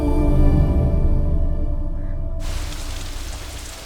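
Rain falling in a Malayalam film scene: a soft broadband hiss of steady rainfall rises abruptly after a low humming stretch and continues evenly to the end.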